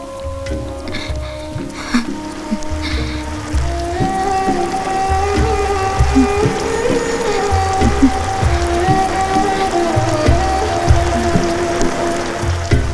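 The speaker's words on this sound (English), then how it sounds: "it's raining" Steady rain falls and patters on a surface, with a low musical drone and tones running underneath throughout.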